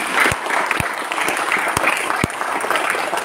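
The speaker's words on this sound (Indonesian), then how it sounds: "Sekali lagi tepuk tangan untuk Buya Arazi" An audience applauds steadily at an Indonesian religious gathering, a dense continuous wash of clapping with a few sharper claps standing out, close and fairly loud throughout.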